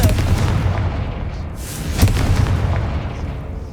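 A Confringo blasting spell explosion in Hogwarts Legacy, a loud booming blast with a sharp crack near the middle, inside a rumbling, fiery background of continuous noise.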